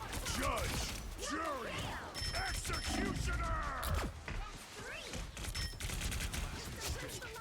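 Rapid gunfire from the video game Marvel Rivals, dense bursts of shots and thumps layered with sweeping effect tones, fairly quiet and continuous, with a voice talking over it.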